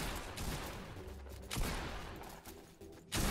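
Rapid bursts of video game shooter gunfire, a handful of loud broadband cracks spaced irregularly over a few seconds amid a busy, noisy game mix.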